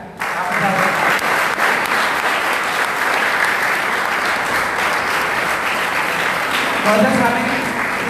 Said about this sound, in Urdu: ایک دفعہ پھر تالیاں بجا کر